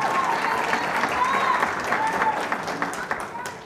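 An audience at the 2013 Golden Apple Awards, a teacher awards ceremony, claps and cheers loudly and steadily, a dense wash of applause that holds, then thins slightly toward the end.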